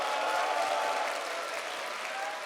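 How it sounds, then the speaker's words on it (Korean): Audience clapping to welcome a speaker at a workplace-ministry academy talk event, a continuous, moderately quiet round of applause that holds steady and tapers slightly at the end. "큰 박수로 환영해 주십시오"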